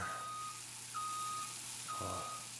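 Reversing beeps from a combine harvester in the farming video game Farming Simulator 19, a steady tone repeating about once a second over a low engine drone, no talking.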